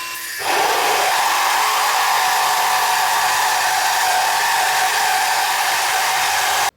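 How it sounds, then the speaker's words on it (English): A cordless angle grinder cutting through pipe, spinning up abruptly into a loud, continuous high-pitched whine and grinding hiss that holds steady for several seconds before cutting off sharply. "we've actually included a grinder comparison quickly here"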